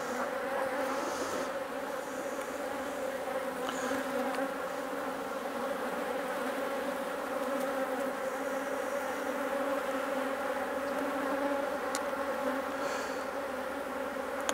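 Honey bees buzz continuously around an opened hive during an inspection, a dense steady drone close up with individual bees flying past now and then, no voices.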